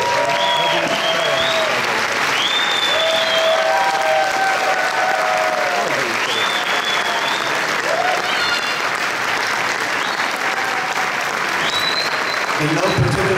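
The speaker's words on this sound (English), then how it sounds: "give all of the competitors a round of applause." Audience applauds competitors at a 2024 event, dense continuous clapping and crowd noise filling the space, with whistles or tonal calls and voices rising over the applause.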